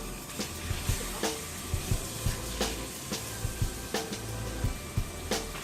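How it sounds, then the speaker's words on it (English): Steak sizzles in butter in a hot pan, a constant quiet hiss broken by soft clinks and scrapes of a utensil against the pan at irregular intervals, with no talking. "we'll add the piece of steak in there to the sizzling hot pan"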